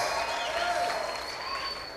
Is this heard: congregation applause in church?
yes